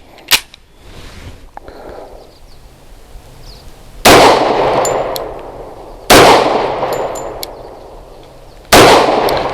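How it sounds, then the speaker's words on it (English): A Bersa B1911 pistol fires Hornady Critical Defense 185-grain ammunition at an outdoor range: one sharp shot early, then three loud, ringing reports spaced a few seconds apart, each trailing off into a fading echo. "Definitely more recoil, but also nice shooting."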